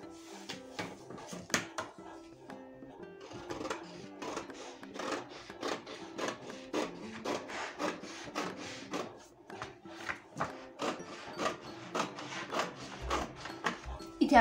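Scissors cut a cross strip of blouse fabric, a quiet, steady run of rapid rasping snips and rubbing strokes repeating close by, with no talking.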